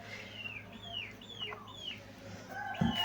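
Young chicks in a cage giving a series of thin rising peeps and soft clucks, several calls in quick succession over a faint background hum, fairly quiet and close, ending with a brief thump.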